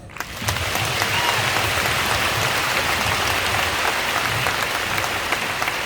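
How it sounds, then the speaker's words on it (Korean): A church congregation at a large Christian rally applauds a pastor, a steady, dense wash of clapping that sounds much like heavy rain and holds loud throughout. "김유곤 목사님 박수 한번 해요"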